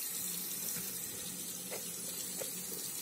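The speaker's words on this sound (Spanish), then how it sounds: "a esperar que salga el agua caliente" Water runs steadily from a tap while someone waits for it to turn hot before mixing henna and indigo hair dye, a continuous hissing splash with no voices.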